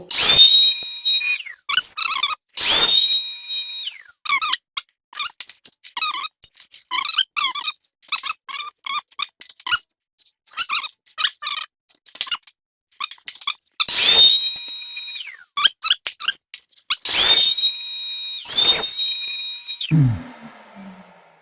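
Miter saw cutting window trim: several short high-pitched whining spin-ups and bursts of blade noise through wood, separated by quieter clattering, handling and repositioning sounds, close and loud.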